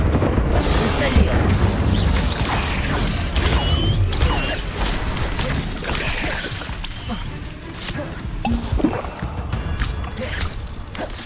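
Incendio fire spell cast repeatedly in Hogwarts Legacy, with dense crackling bursts and rumbling booms in constant combat noise, loud throughout, with a voice speaking at times.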